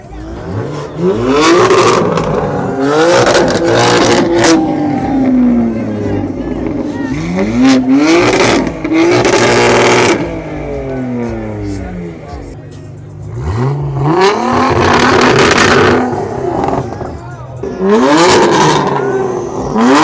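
Modified show cars rev and accelerate loudly as they roll out of FuelFest, engines roaring in repeated bursts with some tire noise, close and dominant throughout.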